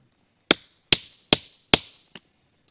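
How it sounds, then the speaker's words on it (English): Four sharp rock hammer strikes smacking open a rock in the field while hunting for emeralds, evenly spaced and loud, each ringing briefly, followed by one fainter tap. "Take it with rock hammer, smack it open a few times,"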